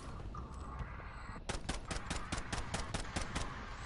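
Rapid gunfire in a shooter video game: a quiet stretch, then a loud string of sharp, evenly spaced shots in quick succession, close by.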